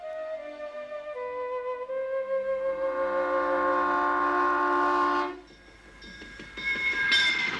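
A train passes with a long, loud horn blast that holds steady and then cuts off, followed by rumbling and clattering wheels on the rails, with no speech.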